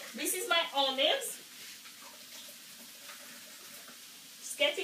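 Water drained from a container of olives while cooking a stir-fry with butternut squash, sweetcorn and sugar snaps: a faint, steady trickle between stretches of a person talking.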